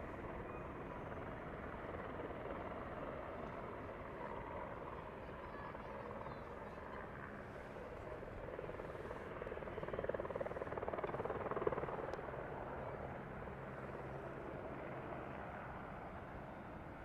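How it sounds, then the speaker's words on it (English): A helicopter drones steadily in the distance near Van Nuys Airport, California, its rotor thrum swelling slightly midway before settling back, faint and continuous. "Looks like another helicopter."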